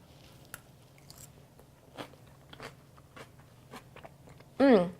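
Crisp crunches and soft bites from someone chewing a low carb taco salad with tomato, olives, sour cream and meat, close and fairly quiet, scattered irregularly, with a brief voice near the end.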